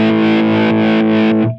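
A heavily distorted electric guitar chord runs through a Line 6 Helix effect placed before the distortion, loud and sustained with a faint pulsing swell, then fades out at the end.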